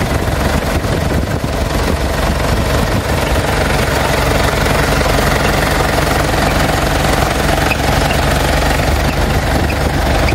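A 1994 Mitsubishi Pajero 2.8 diesel engine running with failing air-conditioning compressor bearings, a loud continuous rattling, knocking drone heard up close and steady throughout.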